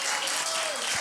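Audience clapping fills a short burst at a live evening stage performance honouring a singer, steady and close throughout.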